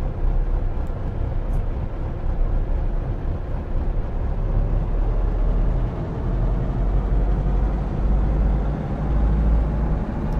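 A Schweizer S300 CBi helicopter engine runs loud and close, a dense continuous roar and rotor drone holding steady as the throttle comes up for a hover.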